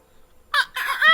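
Close, loud rooster-like crow in two short harsh bursts, the second longer and wavering. It comes right after near silence.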